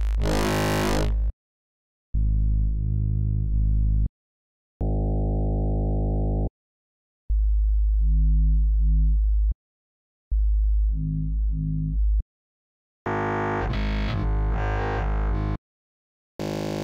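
A synthesizer plays a series of wavetable patches from the Projektor pack. Separate sustained tones, some buzzy and rich, some pure and pulsing, each ring for a couple of seconds with silent gaps between them.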